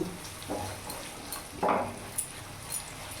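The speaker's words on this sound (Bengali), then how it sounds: "এখন ভাজবো" Egg bhurji frying over a full flame, a faint sizzle with scattered scrapes and clinks of a spatula stirring against the pan at irregular moments.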